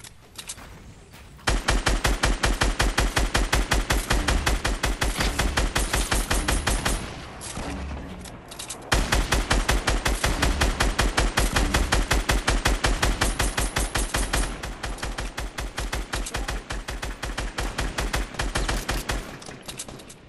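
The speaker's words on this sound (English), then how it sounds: "I'm getting shot at" Sustained automatic gunfire in a Fortnite Battle Royale match, loud rapid-fire bursts rattling on for most of the stretch with a brief pause, far louder than anything else.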